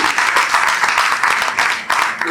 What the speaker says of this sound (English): A round of applause for this wonderful